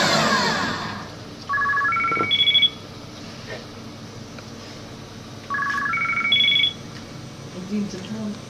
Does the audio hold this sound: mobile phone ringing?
yes